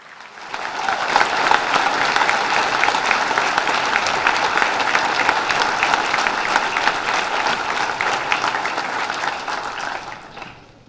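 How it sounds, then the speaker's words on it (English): Sustained applause from an audience at a police merit awards ceremony in Milwaukee, steady dense clapping that swells in and tapers off at the end, with no talking over it. "They deserve another round of applause."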